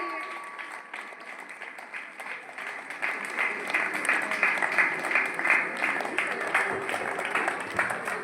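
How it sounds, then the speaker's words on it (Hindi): A school science exhibition audience claps continuously, the applause thickening and growing louder about midway and holding as a dense, sustained roar of many hands. "तालियों की गड़गड़ाहट रुकनी नहीं चाहिए।"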